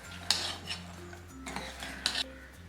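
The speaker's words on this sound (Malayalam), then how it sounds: "ചൂടായിക്കൊണ്ടിരിക്കുന്ന ഷുഗർ സിറപ്പിലേക്ക് ഈ ഫ്രൈ ചെയ്ത് വെച്ചിരിക്കുന്ന ഈ സ്നാക്ക് ഇട്ടിട്ട് നല്ലതുപോലെ ഇളക്കി കൊടുക്കാം." A spoon stirs fried snack pieces through hot sugar syrup in a pan for thaen mittai candy, giving a few soft scrapes and light metallic clinks, quiet and close, with a low hum underneath.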